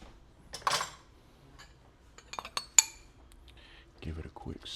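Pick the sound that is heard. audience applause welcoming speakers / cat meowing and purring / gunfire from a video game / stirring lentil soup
stirring lentil soup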